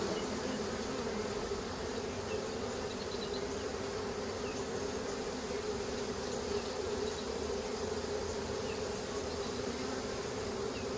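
A honeybee swarm buzzes in a dense, continuous drone as it is shaken onto hive bars, steady and close with no voices.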